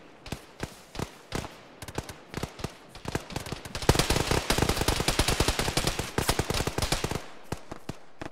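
Gunfire in the ArmA military game: a few scattered shots at first, then a loud, sustained burst of rapid automatic fire with many overlapping reports that tapers off near the end.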